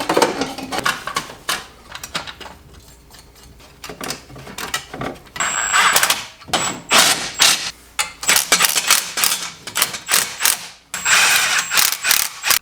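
A ratchet wrench clicks in quick bursts while installing a titanium exhaust on a Porsche 996 Turbo, rapid close metallic ratcheting strokes separated by short pauses, with no talking.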